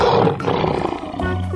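A loud, rough animal roar resembling a lion's, harsh and broad, sounding close, followed by a low sustained rumble near the end.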